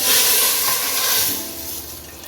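Garlic dropped into hot oil with whole red chillies and cumin, giving a loud, steady hiss and sizzle that gradually fades a little, with no talking.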